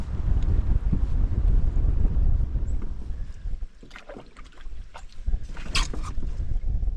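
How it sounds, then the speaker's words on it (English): Strong wind gusts buffet the microphone while paddling a canoe on a big lake, a loud rumbling roar that eases midway, with light splashing and paddle knocks near the end. "Still got a good wind, but the waves are gone now."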